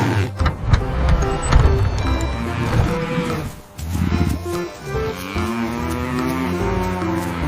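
A cow moos loudly on a farm in a cartoon farm scene, several long, drawn-out lowing calls close up with short breaks between them.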